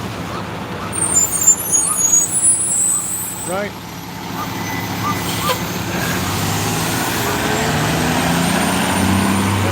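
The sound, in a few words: fire truck passing with air brakes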